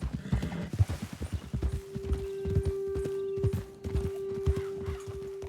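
Horse hooves clip-clop in a quick, steady rhythm in the video game Red Dead Redemption 2, then slow and fade while a sustained musical tone and a soft whinny sound nearby.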